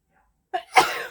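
A quick inhale leads into a single sharp, forceful sneeze, close and loud, trailing off briefly.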